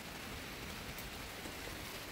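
Steady, faint rainfall hisses evenly throughout, a soft continuous wash of drops with no voices.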